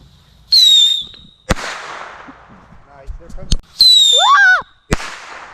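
Backyard consumer fireworks launching with shrill descending whistles and sharp loud cracks, several bursts spaced over a few seconds, with faint voices between them.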